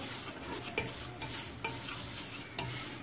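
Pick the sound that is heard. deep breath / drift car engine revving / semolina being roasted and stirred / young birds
semolina being roasted and stirred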